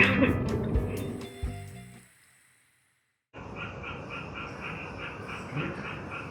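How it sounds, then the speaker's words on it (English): Frogs croak from a rice paddy just outside a window in Japan, a dense steady chorus of pulsing calls that kicks in abruptly after a brief silence and continues loud and unbroken to the end; earlier sounds are mixed room noise. "Rice paddy full of frogs right outside of the window."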